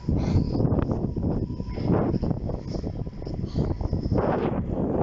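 Wind picks up outdoors during a walk, gusting and buffeting the microphone in a continuous low roar with rustling swells.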